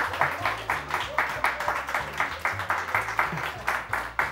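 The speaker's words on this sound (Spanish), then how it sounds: "Sigan, sigan aplaudiendo." A comedy show crowd claps in a steady, rhythmic beat, loud, regularly spaced bursts of hands over a low musical backing that pulses along with them.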